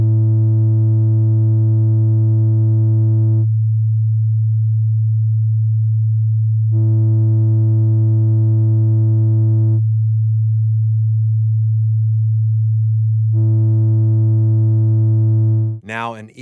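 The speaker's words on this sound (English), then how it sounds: "I'm going to turn the saturation on and off so you can hear the difference" A steady sine tone runs throughout while saturation is switched on and off three times, each switch adding a bright stack of harmonics, then the tone cuts out with a brief glitchy sweep at the end.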